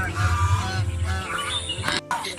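Geese nesting on their eggs in a children's park at the Bardi Pahar eco resort in Bankura honk close by in a loud, continuous run. Their honks pause briefly near the end.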